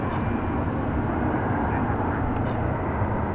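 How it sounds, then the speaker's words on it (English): Ameriflight Beech 1900C turboprop arriving at DFW Airport, a steady broad engine roar held at constant loudness throughout, fairly close and without any break. "Arriving from Lubbock, Texas. That is a Beech 1900C."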